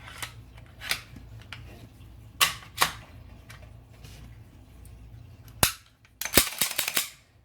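An HK VP9 pistol being reassembled after cleaning, a series of sharp metallic clicks and snaps at irregular intervals, with a quick cluster of clacks near the end.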